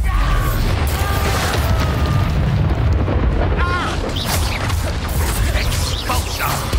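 Confringo, an explosive fire spell, erupts in the Hogwarts Legacy video game as a loud, sustained roar of blasts and crashing debris, layered over dense in-game effects and faint background voices.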